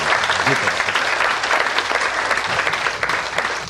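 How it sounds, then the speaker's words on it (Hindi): Loud, sustained applause fills an assembly hall as the whole house claps vigorously for Himanshi, a thick, even roar of hands with a brief low voice or cheer early on. "एक बार सारा सदन जोरदार तालियां बजाए हिमांशी के लिए"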